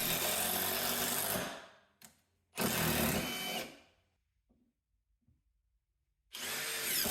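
A Metabo impact driver sinking construction screws, with two loud close bursts of rapid hammering whir, a short stop between them, a longer silence, then a third run starting.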